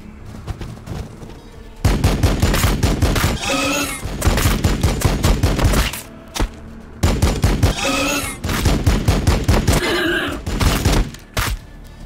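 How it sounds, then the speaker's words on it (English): Heavy gunfire from the Warhammer 40k Battlesector video game: repeated loud volleys of rapid shots and booms, broken by short pauses, close and dominant throughout. "We are taking fire. Man, that is some focus fire there."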